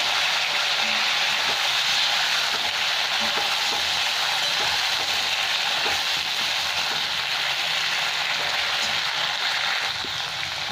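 Pointed gourd and potato fry with salt and turmeric in a pan, giving a continuous, even sizzle with a faint crackle throughout.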